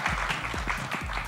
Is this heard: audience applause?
yes